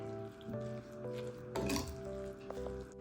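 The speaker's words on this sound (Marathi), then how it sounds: "हळद लाल तिखट आणि जिरेपूड आता हे व्यवस्थित मिक्स करायचंय" Turmeric, red chili powder and cumin powder are stirred into rava chilla batter with carrot and tomato: soft, quiet scraping and stirring in a bowl with faint clinks of a utensil, close by.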